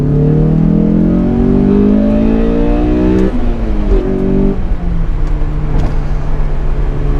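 A Honda S2000 convertible fitted with a K&N intake accelerates hard in second gear, the engine note climbing steadily in pitch, dipping briefly, then pulling again loud and close, with no talk over it.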